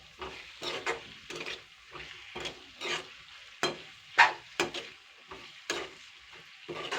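Capsicum bhaji stirred in a pan, repeated scraping and clattering strokes of a spoon at an uneven rhythm, close up, over a faint sizzle.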